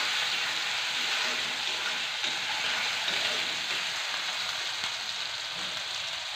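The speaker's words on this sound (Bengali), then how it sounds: "দেখুন পেঁয়াজটা তো লাল লাল করে ভাজা হয়ে গেছে।" Onion paste fries in a pan with a continuous close sizzle and faint crackle, steady and even throughout with no voices.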